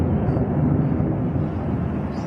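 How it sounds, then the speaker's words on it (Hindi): Apache and Chinook military helicopters fly over a navy base in Caracas during an attack, a loud, steady, rumbling roar filling the whole stretch with no pauses. "आपको आवाज भी सुनाई दे रही होगी। अपाचे चिनूक हेलीकॉप्टर्स का इस्तेमाल किया गया।"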